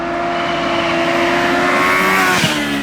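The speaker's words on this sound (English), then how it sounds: "Yes, this is how the acceleration of the H2 feels." A Kawasaki Ninja H2 supercharged motorcycle accelerates hard, its loud engine a steady, rising whine with rich tonal harmonics, close and continuous throughout.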